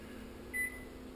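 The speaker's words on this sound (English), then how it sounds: "put it in my microwave," A microwave oven running with strips of bacon inside, a steady low hum with a faint whine, briefly louder for a moment in the middle, no voices.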